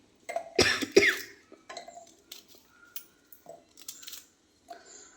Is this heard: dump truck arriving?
no